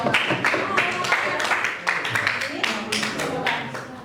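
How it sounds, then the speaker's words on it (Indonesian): Classroom applause for a student named Rizky who comes to the front, bursts of clapping from a group of students, fairly close, with talking mixed in. "Tepuk tangan buat Rizky"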